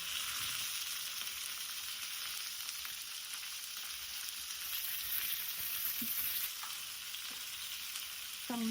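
Dry red chillies and panch phoron spices sizzle steadily in hot oil, a dense continuous crackling hiss with a few faint clicks.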